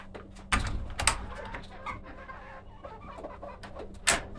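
Soft clucks and chicken murmurs sound from bearded and non-bearded chickens in barn breeding pens, with a few sharper rustles and bumps rising over a low steady hum.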